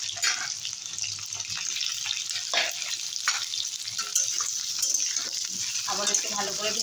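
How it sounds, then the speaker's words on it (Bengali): Potatoes and pointed gourd frying in a pan, a constant loud sizzle with stirring scrapes and clatter running throughout the clip. "আবার একটু ভালো করে ভেজে নেবো আলু পটলগুলোকে"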